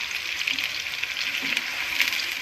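Onions and spices frying for a chicken kachnar curry, a steady close sizzle with light stirring noises running throughout, no talking.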